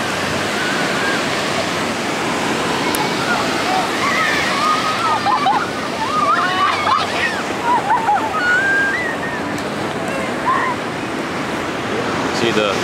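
Ocean waves at Santa Monica beach roar as a steady, loud wash of surf, with crowd chatter and distant voices mixed in throughout.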